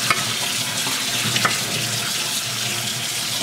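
Cold water pours steadily from a tap over fish salad, a constant splashing hiss with a couple of faint clinks near the start.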